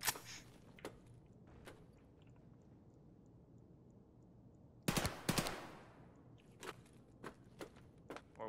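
Gunfire in Escape From Tarkov: a quiet stretch with faint footsteps, then a loud close burst of shots midway, followed by several sharper scattered single cracks toward the end.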